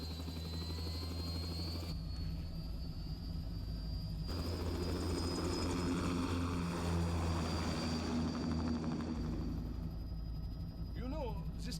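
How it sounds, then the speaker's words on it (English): Aircraft lifting off in Metal Gear Rising: Revengeance, a steady loud engine and rotor-like drone that holds throughout and swells in the middle, with a voice talking over it. "Commencing takeoff in semi-auto mode."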